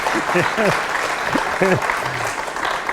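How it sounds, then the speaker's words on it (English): An audience applauds at a masterclass on a Beethoven string quartet, giving steady, dense clapping for the players while voices talk over it. "a little applause, please, because it's fantastic"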